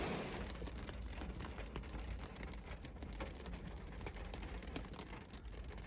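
Steady rain falls at EPCOT on a rainy day, a dense continuous patter and hiss with scattered louder drops, close and unbroken throughout.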